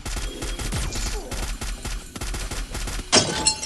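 Bursts of automatic gunfire in Free Fire, rapid cracking shots at close range in short clusters with brief pauses, ending in a louder sharp blast.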